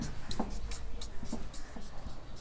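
Pen writing on paper during a maths lesson, close and soft, with short scratchy strokes and light taps in an uneven rhythm over low room noise.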